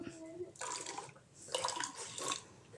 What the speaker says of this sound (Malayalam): രണ്ട് ഗ്ലാസ്സിലായിട്ട് ഒഴിച്ചു കൊടുക്കുന്നത്